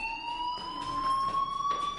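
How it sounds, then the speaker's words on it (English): A fire alarm in the video game Life is Strange, a steady high electronic tone with pulsing overtones, continuous and moderately loud. "Hey, do you hear that fire alarm?"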